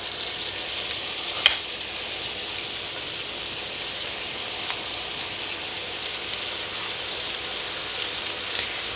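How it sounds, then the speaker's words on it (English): Salisbury steak patties sizzle in a hot frying pan, a steady, even crackling hiss that continues throughout with a few brief louder pops and no talking. "It should sizzle when you stick them in there."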